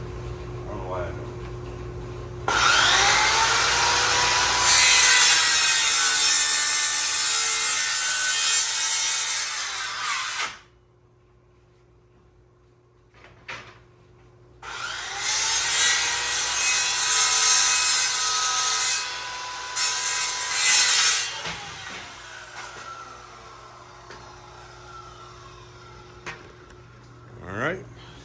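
A power saw cutting a marked piece of material while fixing up a hot rod shop, two long loud cutting passes separated by a quiet pause, over a steady background hum.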